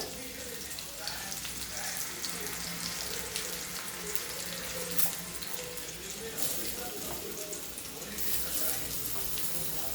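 Stuffed bitter gourds dropped into a pan of raw onions frying in oil; a continuous dense sizzle and hiss runs throughout, close and steady, with faint background noise.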